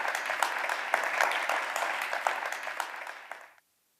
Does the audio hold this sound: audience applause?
yes